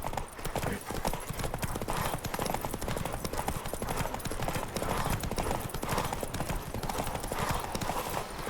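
A horse gallops in the video game The Witcher 3: Wild Hunt, with fast, steady rhythmic hoofbeats that drive on without pause at close range.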